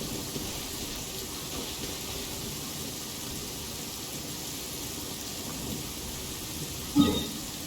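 Steady rain falling in an anime-style fantasy video game, a constant even hiss of downpour with a faint low rumble near the end.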